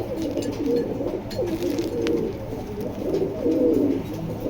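Racing pigeons coo in soft, repeated rolling phrases at close range over a steady low background hum, with no one talking.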